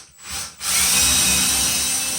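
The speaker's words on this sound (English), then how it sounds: "pre-drill." A power drill pre-drills a screw hole through a wall stud for a floating shelf bracket, its steady high whine close and loud after a brief start-up, running on without pause.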